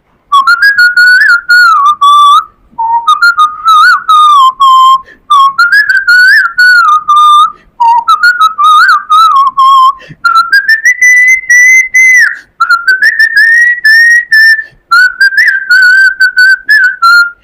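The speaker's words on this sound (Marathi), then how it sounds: "मी शिट्टीतून गाणं म्हणून दाखवणार." A person whistles a song, holding a clear, loud melody in long phrases with short breath pauses between them and nothing else heard.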